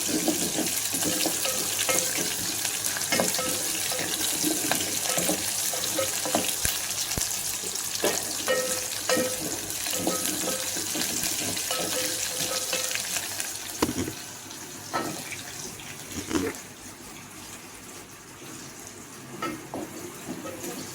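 Garlic and green chili fry in oil in a pan for a gavran mango kadhi, a steady close sizzle with occasional stirring scrapes and clinks, easing somewhat toward the end.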